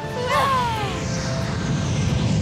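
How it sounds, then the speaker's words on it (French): A steady engine drone of a large cargo plane passing overhead, broad and continuous with a faint whine, loud and fairly close. "Regarde, un avion cargo."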